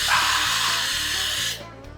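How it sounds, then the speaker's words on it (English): A steamer blasts a hat crown to soften it, a loud continuous hissing spray that cuts off sharply near the end, leaving faint background noise. "So I'm gonna steam the crown up, soften it up a little bit."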